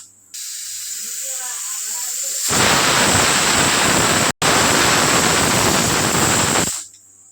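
A pressure cooker holding chicken in gravy releases a loud, sustained hissing whistle of steam that starts abruptly, breaks off for an instant midway, then resumes before cutting out, with faint background sound before it begins.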